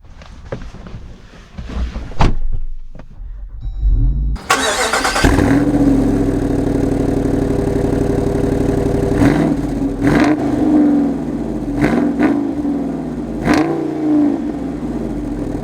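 A 2024 Jeep Wrangler 392 AEV Edition with its V8 engine starts up loudly and settles into a steady, rumbling idle, with a few sharp revs and knocks on top and no talking.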